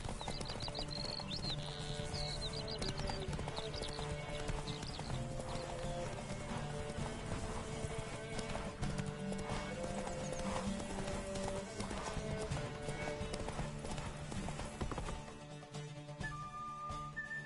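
Horse hooves clip-clop at a steady galloping rhythm in The Witcher 3 video game, with occasional whinnies over a continuous layer of orchestral game music and ambience.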